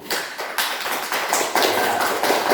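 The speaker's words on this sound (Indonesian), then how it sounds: "coba berikan dulu aplaus dulu" Classroom applause during a primary-school teaching session, a continuous patter of many hands clapping in bursts that swell and fade, fairly close and steady, with no voices over it.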